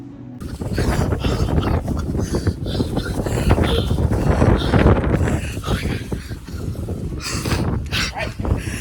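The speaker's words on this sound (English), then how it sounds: "It's so windy." Strong wind in Oia, Santorini buffets the microphone with loud, gusty rumbling that swells and fades, surging again near the end.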